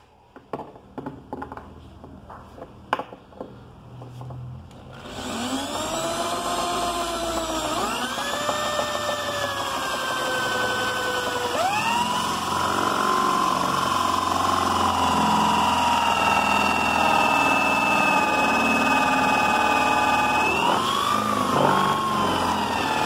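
A power drill bit grinds into a wooden fish-shaped cutting board, a steady loud whine rising and shifting in pitch after a few seconds of quieter knocks and handling, then running continuously to the end.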